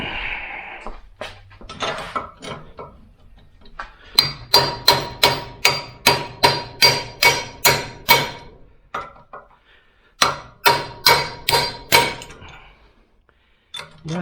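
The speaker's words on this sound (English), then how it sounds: "Better hammer." Hammer blows on a steel chisel driving out a rear axle bearing, two bursts of rapid, evenly spaced metallic strikes, loud and close, with quieter clinks and shuffling between them.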